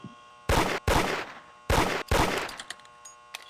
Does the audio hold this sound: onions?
no